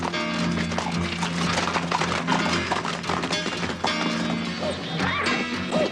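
Rapid hoofbeats pound along amid loud, busy sound with crashes and thuds, suggesting horses galloping through a chaotic scene.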